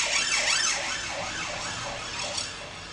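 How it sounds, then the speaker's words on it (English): Police car sirens wail in a steady rising-and-falling cycle as the cars pass along a road outside, loud at first and then fading slightly. "I've just had 3 police cars, one after the other, just go down the road"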